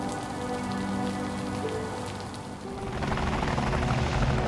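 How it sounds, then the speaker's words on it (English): Military helicopters fly through a rainstorm, their rotor throb blending with the loud, constant hiss of rain that grows denser near the end. "Military choppers!"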